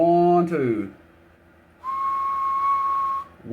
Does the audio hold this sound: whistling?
yes